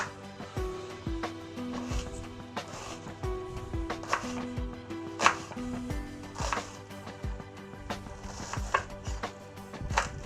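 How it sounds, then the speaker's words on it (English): A knife roughly chopping an onion on a board for a curried sweet potato and butternut squash soup, giving a steady run of close, dull knocks with faint kitchen clatter in between. "So there we go, we have our onion roughly chopped."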